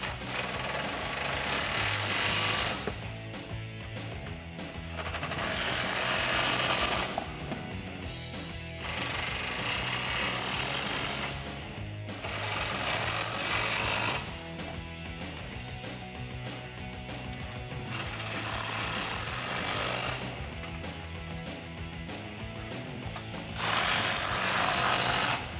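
A rattling impact gun tightens the mounting bolts of a black steel brush guard on a 2007-2013 Chevrolet Silverado, in loud repeated bursts separated by short pauses, with no talking.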